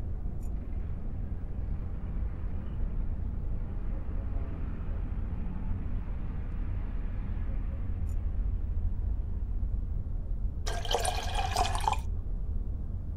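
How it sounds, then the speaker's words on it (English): A photograph slipped into a dish of distilled water in a darkroom in the game The Black Mirror 2: a brief watery splash about two-thirds through, over a steady low ambient hum. "The photo has to go into the distilled water as quickly as possible."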